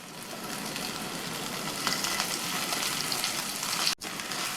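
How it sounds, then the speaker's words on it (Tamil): Mustard seeds, cumin, bay leaves and dried red chillies sizzle steadily in hot oil for a potato masala, a dense, close crackling hiss with scattered pops throughout, broken by a brief cut near the end. "அதில் 1 டீஸ்பூன் கடுகு பொரிஞ்சதும் 1/2 டீஸ்பூன் சீரகம், இதில் வாசனைக்கு 2 பிரிஞ்சி இலை, 2 காஞ்ச மிளகாவையும் சேர்த்துக்கலாம்"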